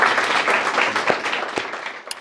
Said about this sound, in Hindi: तो एक बार और जोरदार तालियां बजाइए.